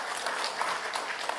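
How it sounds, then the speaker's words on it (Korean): A church congregation claps together during a Sunday service, even and continuous applause heard somewhat distant and fairly soft across the hall. "우리 박수로 한번 축복하겠습니다."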